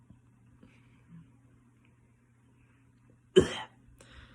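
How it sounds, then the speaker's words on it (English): A single short cough cuts through a quiet room over a steady low hum, followed by a faint breathy trailing sound. "Sort of cough there, everybody."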